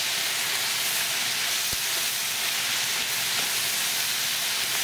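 Carbonara pasta with vegetables and meat sizzles steadily in an oiled pan, a continuous close, bright hiss with no talking over it.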